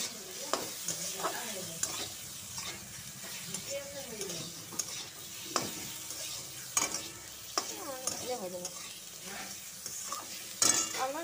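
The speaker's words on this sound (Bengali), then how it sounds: "বিনগুলো দিয়ে দেবো ভাজার জন্য।" Chopped beans stir-frying in a pan for fried rice, giving a soft continuous sizzle broken by repeated scraping stirs of a utensil against the pan, close by with no talk.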